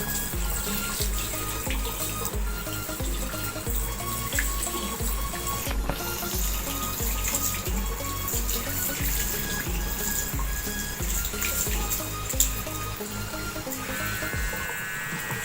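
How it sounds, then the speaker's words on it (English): Tap water runs steadily into a sink while a Vega X-1 trimmer is rinsed under it, a continuous close splashing hiss with small shifts as the flow hits the blade. "so I'll clean it with water now"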